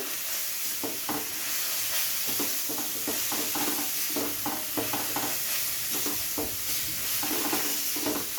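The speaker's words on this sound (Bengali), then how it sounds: "আরেকবার খুব ভালো করে আমি নেড়ে চেড়ে নিলাম" Tomato masala sizzling and frying in oil in a pan while being stirred, with steady bright hiss underneath and repeated scraping, clicking stir strokes at an uneven rhythm, no talk.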